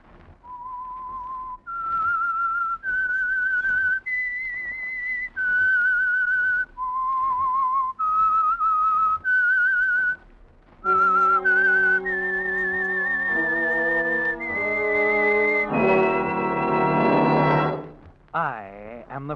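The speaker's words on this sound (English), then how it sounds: "That whistle is your signal for the Signal Oil program," The Whistler radio show's signature whistled theme, sponsored by Signal Oil, 1948: a lone melodic whistle in clear rising and falling phrases, followed by an orchestra swelling up beneath it to a loud, full finish.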